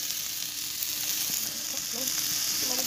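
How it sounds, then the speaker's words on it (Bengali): Potatoes frying in a hot pan at a picnic cookout, a steady close sizzle with faint stirring clicks and no talk. "এখন আমরা দিয়ে দিব আলু। আলুটা ভালোভাবে ভেজে নেব।"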